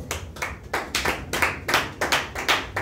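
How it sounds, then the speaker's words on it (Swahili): A church congregation claps for Jesus during a sermon, with about nine loud, sharp bursts of applause in a steady rhythm. "pigia Bwana Yesu makofi."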